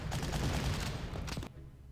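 Artillery fire in the Panzer Corps wargame comes as a dense, booming burst of rapid blasts that rolls on loudly, then cuts off sharply into a quieter rumbling tail.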